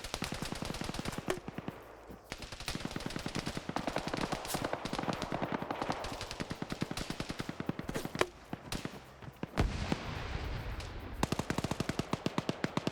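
A DShK heavy machine gun in a first-person shooter, firing long rapid bursts of loud, sharp reports with brief pauses between strings, plus other scattered gunfire.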